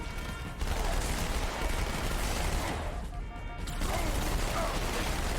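Rapid, continuous SMG fire in Halo 2 on Heroic difficulty, a dense mechanical rattle of dual-wielded submachine guns with clattering reload sounds, loud and sustained throughout.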